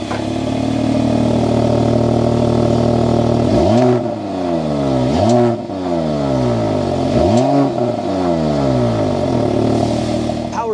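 A 2024 Mercedes-AMG GLE 53 Coupe turbo engine is started and revved hard several times, the exhaust sweeping up and falling back in loud, close, rising roars over a steady idle.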